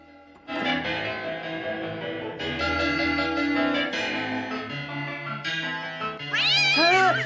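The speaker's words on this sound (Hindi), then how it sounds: "वहाँ कुछ नहीं है, बस एक छोटी सी बिल्ली है।" A small cat meows repeatedly and close, the sustained, tonal cries stretching through most of the stretch and ending in a louder rising-falling yowl, with no talk over them.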